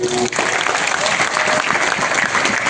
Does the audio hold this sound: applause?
yes